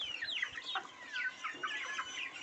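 Native Gavran chickens crowd around scattered rice, clucking and chattering in quick overlapping bursts close by while they eat.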